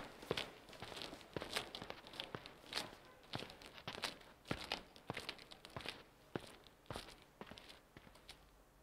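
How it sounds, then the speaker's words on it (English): Footsteps of someone walking, a steady sequence of crisp, crunchy steps, about a dozen over several seconds, fairly close and alone with no talking. "Footsteps"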